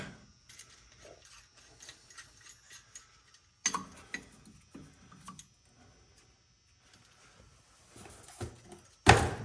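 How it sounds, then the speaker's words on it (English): Brake caliper pistons are pushed back in by hand, giving sparse mechanical clicks, ratcheting ticks and scrapes up close, with quiet gaps between them and a sharper metallic clunk at the end. "I'm going to push the caliper pistons back in."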